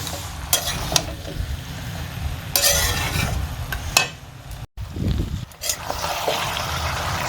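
Malabar spinach with a fish head sautés in a pan, a close sizzle broken by scraping stirs and clinks of the spatula, with a brief dropout partway through.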